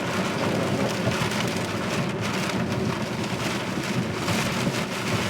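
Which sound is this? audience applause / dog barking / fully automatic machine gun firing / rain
rain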